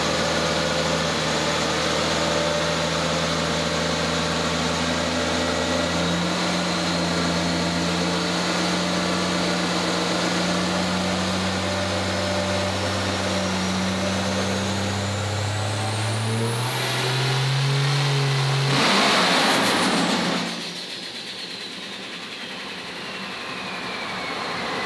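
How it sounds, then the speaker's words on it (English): A loud triple-turbo Cummins-swapped diesel truck engine roars steadily on a dyno, its pitch climbing through a long pull before abruptly dropping off, with a turbo whine sweeping up and down. "so we made a couple of pulls on Mark's truck."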